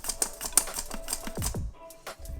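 Potatoes are sliced on a mandolin slicer into thin chips, several quick crisp rasping strokes in a rapid uneven rhythm, close by, then a brief pause at the end.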